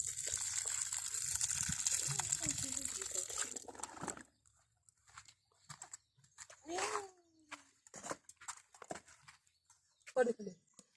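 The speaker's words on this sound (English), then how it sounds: "So let me wash my avocado." Water gushes and splashes steadily as an avocado is washed outdoors in a village. After about four seconds it stops, leaving quiet with faint birds and animal calls in the distance.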